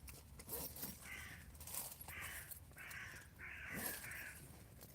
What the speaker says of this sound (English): Don't know if you can pick up the birds all squawking.